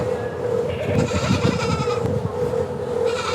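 Goat bleating on a beginner's livestock farm, a drawn-out wavering cry heard close against steady background noise, with no talking.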